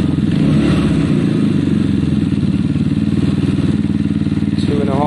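A Zontes motorcycle with electronic fuel injection idles steadily, a low, even engine drone with some mechanical clatter that runs throughout at close range.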